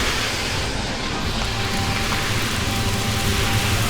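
Light drizzle falls over a city, a steady, even hiss of rain with no voices, holding at the same level throughout.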